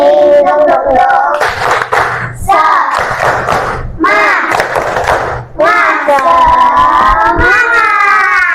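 A class of fourth-grade pupils performs a loud, close rhythmic spirit clap, with clapping beats mixed under energetic group chanting and shouted call-and-response.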